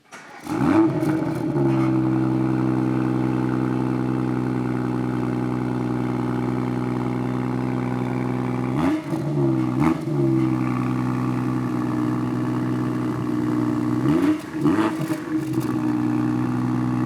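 A BMW X3 M40i SUV pulls out of a small stretch of forest with a steady, even engine hum that holds throughout, broken by a few brief bumps and surges of noise.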